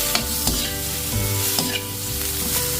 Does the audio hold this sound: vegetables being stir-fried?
yes